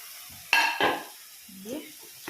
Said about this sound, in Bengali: চলো, আমার মশলা হয়ে গেছে, আমি এখন বেগুনটা দিয়ে দেব।